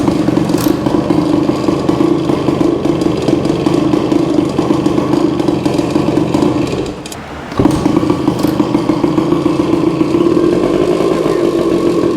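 A Suzuki TC-90 motorcycle engine runs loud and steady, a rough, clattering two-stroke drone that dips briefly near the middle as throttle fails to take, then resumes at the same level.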